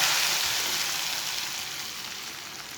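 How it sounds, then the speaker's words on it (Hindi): Browned onion tempering (tadka) poured into whole moong dal sizzles with a steady, bright, hissing crackle, close and fairly loud, slowly easing off over a few seconds with no talk. "अब प्याज का तड़का डाल लेंगे।"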